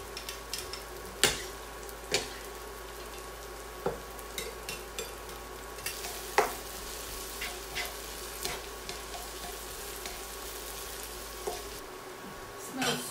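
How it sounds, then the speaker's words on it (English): Onion and fresh garlic fry in olive oil with a steady, close sizzle throughout, broken by repeated sharp clacks and scrapes from stirring that come at irregular intervals. "We're gonna fry onion,"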